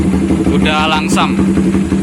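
A motorcycle engine idles steadily with a low, even putter, close by, while a voice talks briefly over the running engine.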